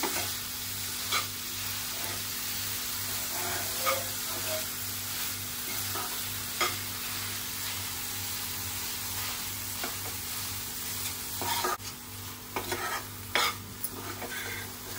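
Mawa is stirred and heated in a pan over a very low flame for modak, a faint constant sizzle under repeated scraping strokes and light clinks of a spoon against the pan, quiet and close.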